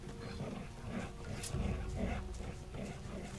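Growling wolf in the video game Risen, a rough, continuous snarl with swelling roars that runs steadily throughout at moderate loudness, with no speech over it.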